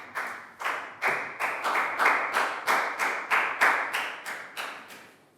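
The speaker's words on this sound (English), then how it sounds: "High five and a big round of applause." A class of young students applauds a classmate during an English lesson, with about a dozen sharp, rhythmic bursts of clapping in a steady beat, each one bright and close before it decays quickly.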